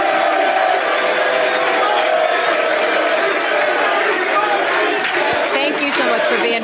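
A studio crowd on a morning sports show cheers, whoops and applauds for Jimmy Butler during NBA All-Star Weekend, a dense, steady roar of many voices that holds loud throughout.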